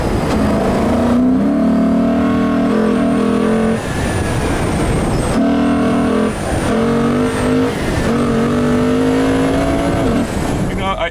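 The V8 engine of a 2019 Lexus RC F revs hard on a track, its loud, sustained tone climbing and dropping through several gear changes with brief lifts between them, heard close and at full volume.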